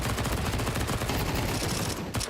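Dense automatic rifle fire in a professional Counter-Strike match, loud continuous bursts of rapid shots filling the whole moment without pause.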